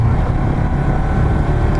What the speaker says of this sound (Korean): 오늘도 어김없이 야간에 바이크를 타러 나왔습니다